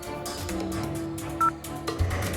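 Telephone being dialed in a detective cartoon, a few short electronic tones over a steady background score, with a brief bright beep near the middle and another near the end.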